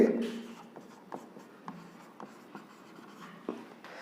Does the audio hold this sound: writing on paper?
yes